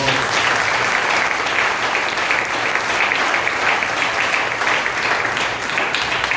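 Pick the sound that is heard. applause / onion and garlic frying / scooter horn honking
applause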